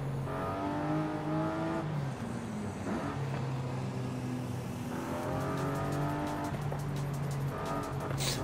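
A car engine revs loudly and repeatedly, pitch climbing in sweeping rises and dropping between pulls, close and continuous with no talking.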